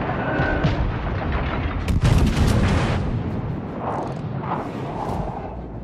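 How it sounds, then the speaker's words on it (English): Warship guns fire in the naval game World of Warships: Legends. A heavy, rumbling boom swells near the middle, and lighter blasts and a low roar of battle surround it. "Concentrate fire on the enemy warship."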